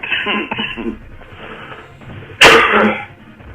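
A person lets out a single loud, sharp cough partway through, standing out over faint background sound in otherwise quiet surroundings.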